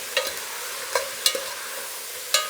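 Vegetables with turmeric stirred and frying in a pan for sambar, a soft sizzle underneath with a handful of sharp spoon scrapes against the pan at uneven intervals, close and fairly quiet.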